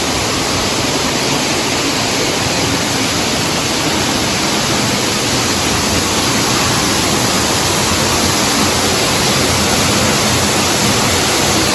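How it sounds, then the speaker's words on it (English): A waterfall in the RHS Wisley garden gives a loud, unbroken roar of falling water, close and constant with no voices over it. "here we have a waterfall"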